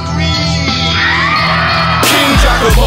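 A crowd at a live hip-hop show yells and whoops loudly over pounding music, with the cheering swelling toward the end.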